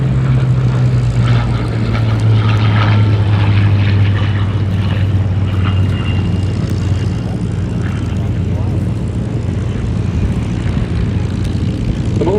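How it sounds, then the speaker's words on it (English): A Supermarine Spitfire 1A propeller fighter runs in at an airshow, its loud piston-engine drone near and steady, with a low throbbing tone that eases off as the aircraft passes. "But in runs IWM's own Spitfire 1A."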